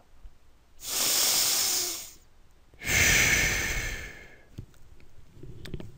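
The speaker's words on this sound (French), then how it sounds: "ça serait essentiellement inspiration, Expiration" Two long, loud breaths taken close to the microphone, a drawn-in inhalation followed by a fuller exhalation, then a few quiet clicks and rustles, with no speech.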